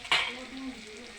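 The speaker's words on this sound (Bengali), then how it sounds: "বন্ধুরা, মশলাটা ভালোভাবে মিশানোর জন্য মশলাটা ভালোভাবে মিশিয়ে নেবো" A spice mix with salt and a splash of water sizzles in a pan for a soybean and potato curry, with one sharp stirring scrape followed by a soft, steady fry.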